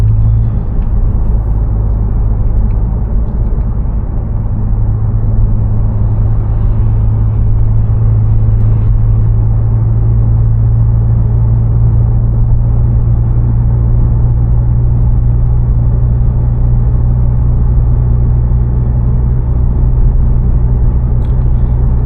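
A Mazda 3 Turbo with a Corksport downpipe gives off a deep, steady exhaust rumble, loud and close, holding a constant low drone throughout with no speech.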